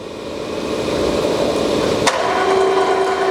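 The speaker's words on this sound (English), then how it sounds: "Right now we're running the spindle, which is geared head." Knuth vertical milling machine with a geared head, spindle running with a continuous mechanical hum, a sharp clunk midway as the gearing shifts, then a steadier tonal whine.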